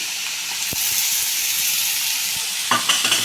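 Tomatoes frying in oil in a pan, a steady broad sizzle and hiss throughout with brief stirring clatters near the end.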